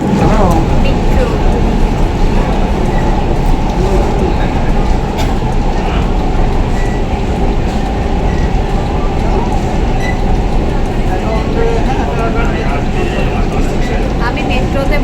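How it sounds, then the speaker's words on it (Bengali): Riding inside a Kolkata metro train near Baranagar station, with a loud, steady rumble and rolling rail noise filling the whole stretch, with faint voices mixed in. "আমি মেট্রোতে বসে আছি"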